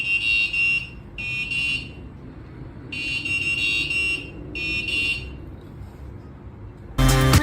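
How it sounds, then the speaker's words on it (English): The buzzer of an anti-terrorism security system gives four loud, shrill electronic beeps in a broken rhythm, each about half a second long, over a low background hum, and a brief harsh burst comes at the very end. "the buzzer will emit an alarming sound"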